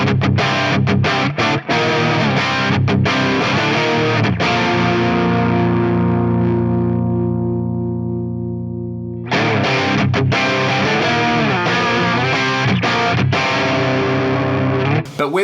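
Heavily distorted electric guitar through an Axe-Fx III JCM800 amp model with high preamp gain, playing early-80s metal riffs; loud and up close, with a long sustained chord ringing out and fading in the middle before the riffing resumes.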